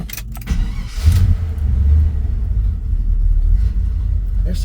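An old truck with a 350 engine idles with a deep, steady rumble and gives a brief rev near the start, heard close up with some low voices.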